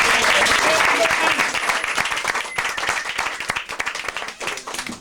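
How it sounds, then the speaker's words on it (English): An audience at the Magic Castle in Hollywood claps loudly to welcome magician Glenn Bishop, starting as a dense burst that thins into scattered individual claps toward the end. "please give a big round of applause and welcome Glenn Bishop"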